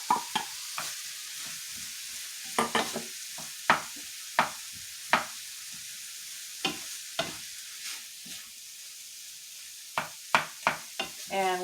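Ground beef for Cuban picadillo cooks in a pan, a soft sizzle running beneath a string of sharp scraping stirs and clacks that come every second or so, close and fairly quiet.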